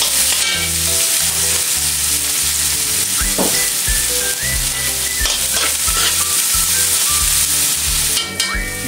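Garlic and onion sauté loudly in a pan for kaldereta sauce, a continuous close sizzle with scraping stirs throughout, underscored by a rhythmic low background beat.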